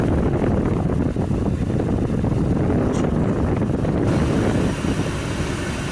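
Heater blower in a Jeep running on full hot, a loud steady rushing whoosh of air close to the microphone that eases slightly near the end.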